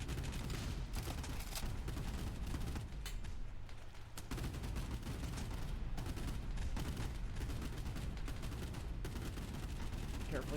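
Machine guns fire in a naval combat video game, dense continuous rattling bursts and blasts filling the whole stretch with only a brief lull, while speech is heard faintly beneath.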